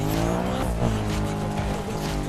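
A BMW in the 2012 Need for Speed racing game drives hard with its engine roaring loud and steady while tires squeal throughout.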